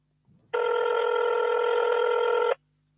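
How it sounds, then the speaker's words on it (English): A telephone rings loudly and steadily for about two seconds, set off by an accidental touch, with no talk over it. "I touched the phone and it went off."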